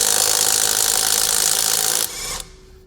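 A Litheli 20V brushless impact driver runs at full power on a wheel lug nut, giving a loud continuous rattling whir for about two seconds that drops off sharply and winds down to silence.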